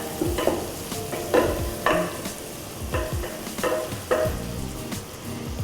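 Garlic and ground masala sizzle in oil in a pan. A spoon stirs through them in regular scraping strokes over a steady frying hiss, close up, with no talking.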